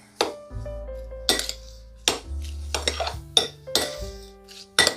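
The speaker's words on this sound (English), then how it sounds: "And now we're just gonna mix that up." Coleslaw with cilantro and green onion gets mixed in a bowl, with repeated clanking and clinking strikes of a utensil against the bowl at an irregular rhythm, close and fairly loud, no voices.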